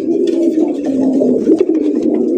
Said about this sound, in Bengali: দেখেন কত সুন্দর একটা কালারিং রাজগোলা কবুতর